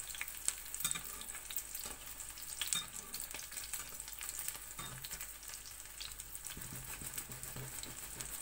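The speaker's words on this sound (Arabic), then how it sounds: "نوريكم كيفاش تحمر البريك" Brick pastry sheets sizzling steadily in shallow hot oil, a continuous crackling fry with scattered louder pops, close by and without speech.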